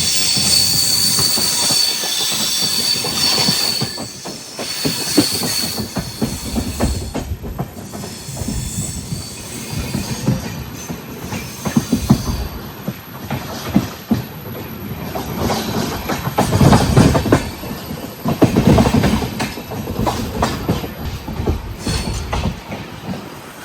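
A passenger train travelling from Kerala toward Udupi runs on rails with a loud, continuous rumble, rhythmic clickety-clack of wheels over joints and bursts of squealing wheels, heard from on board.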